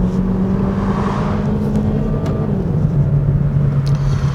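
A Chevrolet Cruze 1.4T car accelerating with traction control switched off, a steady close engine drone and road rumble holding throughout.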